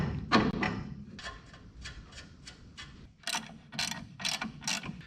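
A ratchet tightens bolts while leaf springs go onto a 1984 Chevy S-10 truck, sounding as rapid close-up bursts of clicking strokes repeated in groups, crisp and moderately loud against a quiet garage.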